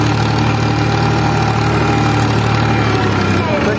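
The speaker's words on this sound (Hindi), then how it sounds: "ट्रैक्टर चल रहे हैं" A loud, continuous diesel tractor engine drone with a steady low throb while working a field with a cultivator, close up, running evenly before a brief dip at the end.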